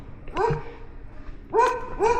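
Big dogs barking at a campsite neighbouring a large camper with a generator, two short bursts of several barks and yips, moderately close, with a low background hum between them.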